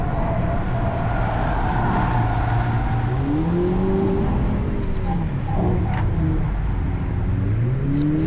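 Volkswagen Polo GTI or Golf VII GTE engine accelerating on a timed lap, a steady loud drone with rising and falling pitch as it pulls through gears and a downshift, continuous for several seconds with no talking.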